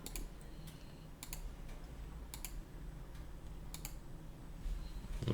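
Rapid, light clicks of typing on a computer keyboard while modelling a 3D house scene, with irregular bursts of keystrokes close by against a quiet background and no talk.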